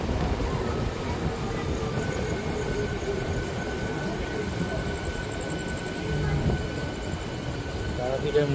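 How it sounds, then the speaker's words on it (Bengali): A passenger train rolls into platform 2 of Tarapith Road station at night, giving a steady, fairly loud rumble with rail clatter that holds for the whole stretch. Indistinct voices sit faintly in the background. "আমাদের ট্রেন তারাপীঠ রোড স্টেশনের প্ল্যাটফর্ম নম্বর 2-এ প্রবেশ করলো।"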